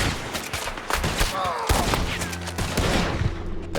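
Rapid gunshots crack in the video game Red Dead Redemption 2, a close, loud flurry of several shots in quick succession over busy game ambience.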